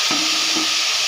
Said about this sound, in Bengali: তো দেখুন অল্প করে জল দিয়ে দিচ্ছি।